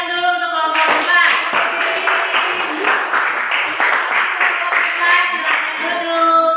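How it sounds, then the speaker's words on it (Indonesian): A classroom group claps for the fourth presenting group, loud close hand clapping in a quick irregular patter lasting throughout, with some voices mixed underneath. "Tepuk tangan dulu untuk kelompok keempat."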